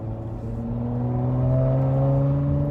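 A 2021 Dodge Challenger V6 with a Borla exhaust accelerates on an interstate highway. Its steady, throaty engine drone climbs gradually in pitch and heard from inside the car.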